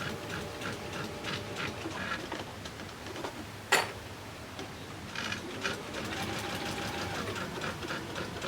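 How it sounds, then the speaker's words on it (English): A sewing machine stitches across a seam allowance line during foundation paper piecing of a quilt block, running as a steady close mechanical whir with a brief sharp click and a short pause partway through, and no talking. "And then I can just sew across the seam allowance line."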